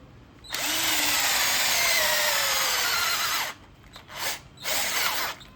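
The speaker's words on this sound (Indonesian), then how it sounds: "Untuk pengeboran pertama agak nyendat dikit ya, tapi ya masih oke lah." A cheap Decker cordless drill with a 10 mm wood bit whirs loudly and slightly stalls as it bores into wood for about three seconds, then revs in two shorter bursts.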